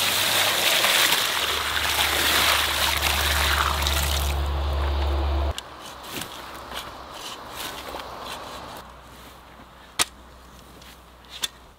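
Water pours steadily onto a newly planted tree in a garden bed, a loud broad gush lasting about five seconds before cutting off, followed by quieter trickles and a few sharp knocks.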